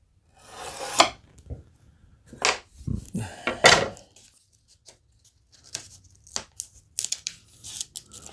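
Scissors snip and rasp through material in several short, close cuts, with rubbing and rustling between them and no talk.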